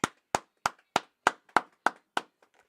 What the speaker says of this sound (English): Go ahead, clap it up.